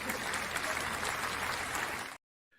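A livestream audience bursts into steady, dense applause for about two seconds, loud and sustained, then cuts off abruptly to near silence with a faint trailing murmur at the end.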